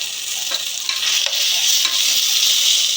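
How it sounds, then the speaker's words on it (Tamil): Ginger garlic paste sizzles steadily as it is fried and stirred in a pan for biryani, a dense continuous hiss with soft scraping strokes at intervals, close and loud, with no talking. "இஞ்சி பூண்டு பேஸ்ட்டுக்கும் போட்டுட்டு நல்லா கலக்கி மிக்ஸ் பண்ணி விடுங்க"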